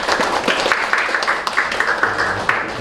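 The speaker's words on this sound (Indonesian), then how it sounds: "Tepuk tangan buat Abdul Wahid." An audience applauds Abdul Wahid, a Lazismu scholarship recipient at IBM Bekasi, with steady, dense clapping that carries through the whole stretch at an even level, no voices standing out.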